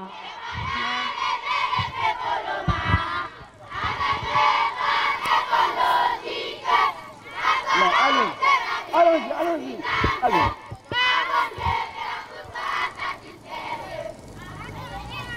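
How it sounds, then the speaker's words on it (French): School pupils at a 2020 school contest cheer and shout in loud bursts, their high voices rising and falling in waves with short lulls between, close and lively, with a child calling out at one point. "On applaudit très fort, s'il vous plaît. Acclamez très fort."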